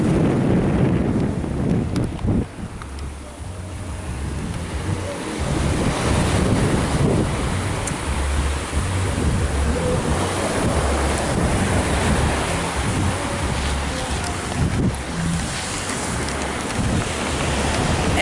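Ocean surf on a Jamaican beach rolls and washes continuously, loud and close, with heavy wind buffeting the microphone throughout and no talking.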